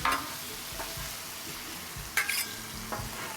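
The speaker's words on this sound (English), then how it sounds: "get that bacon grease over here to cook my eggs on" Bacon grease sizzling on a Blackstone griddle at a campsite while breakfast burritos are cooked, a soft steady frying hiss with occasional spatula scrapes and a few sharper clicks, close but fairly quiet, no talking.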